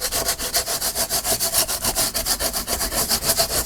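Wooden surface being rubbed down by hand, a steady run of quick back-and-forth strokes, roughly five per second, close and loud with a raspy, sawing texture and no talking.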